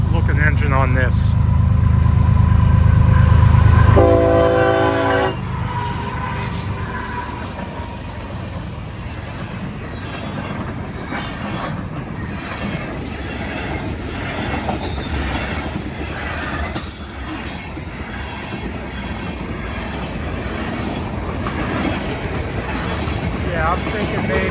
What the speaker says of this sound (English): There's a really cool looking engine on this.